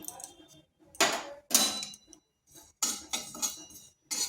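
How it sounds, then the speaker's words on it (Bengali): Panch phoron spices are dry-roasted in a hot, oil-free pan for a Bengali pumpkin dish, heard as irregular bursts of metallic scraping and rattling as a spatula stirs the seeds, with short quiet gaps between strokes. "শুকনো খোলায় পাঁচফোড়নগুলোকে ভেজে নিচ্ছি"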